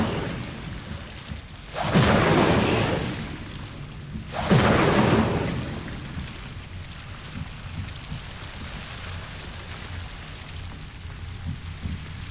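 Two loud whooshing fire blasts from the Incendio spell in Hogwarts Legacy, each a sudden roaring burst that fades over a second or two, followed by a low rumbling ambience.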